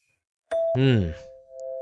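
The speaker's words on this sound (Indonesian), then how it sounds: "Siapa yang pencet bel pintu?" A doorbell chimes indoors at night, a clean ding-dong with a bright struck onset and a long sustained ringing tone, loud and close, heard alone without talk.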